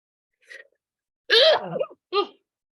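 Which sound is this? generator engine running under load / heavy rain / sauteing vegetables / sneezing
sneezing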